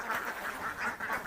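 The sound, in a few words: duck quacking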